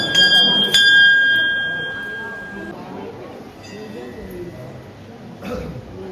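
A metal temple bell at a shrine anniversary celebration rings out loudly with a sharp strike and a long shimmering decay, then rings again more faintly later, over a murmur of crowd voices.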